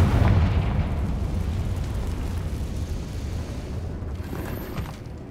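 A Confringo blasting spell explosion in the Hogwarts Legacy video game, a loud booming roar that rumbles on for several seconds and slowly fades, with no talk over it.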